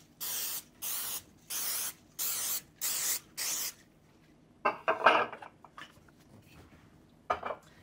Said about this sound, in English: give your donut pan a little spray.